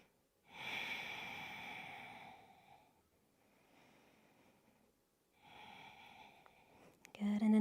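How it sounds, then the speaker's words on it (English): Deep, slow breathing in a yoga plow pose, two long airy exhales through the nose or mouth separated by a quieter pause, close to the mic, with a brief rustle at the end. "So taking 2 or 3 breaths here."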